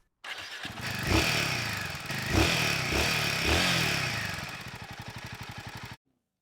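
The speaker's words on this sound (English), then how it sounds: "let me make you hear the exhaust note" A Royal Enfield Himalayan 450 adventure motorcycle's exhaust fires up and revs several times in sharp, throaty bursts, then settles into a steady, rhythmic thumping idle, close and loud with no talking.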